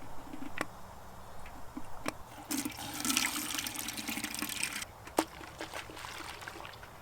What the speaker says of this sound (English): throwing them in a big bucket of soapy water